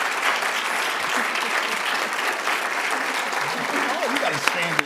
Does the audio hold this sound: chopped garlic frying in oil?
no